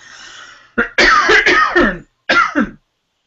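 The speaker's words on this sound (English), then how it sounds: "Don't you just love it when the coughs come on cue like that?" A close, loud fit of harsh coughs, several rapid bursts, then one more pair after a short pause.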